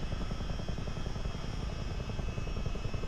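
A Miltech helicopter in Microsoft Flight Simulator 2024 gives off a steady, close rotor thrum with a fast rhythmic chop under a whining turbine hiss, holding constant throughout.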